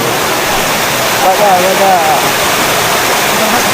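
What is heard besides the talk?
Vanlaxmi waterfall at Vangani, rushing water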